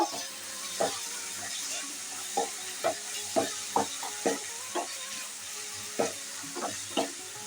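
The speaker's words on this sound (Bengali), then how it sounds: "এখন আমি টমেটোটা দিয়ে দিচ্ছি টমেটোটা দিয়ে একটু নাড়িয়ে নেব" Tomato gets stirred into frying spice paste for a squash curry, with a steady sizzle under a regular series of sharp spoon-against-pan knocks, about a dozen spread across the stretch, and no talking.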